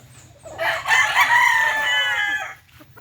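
A jungle fowl rooster crows once nearby, a loud, drawn-out call lasting about two seconds over a quiet background hum.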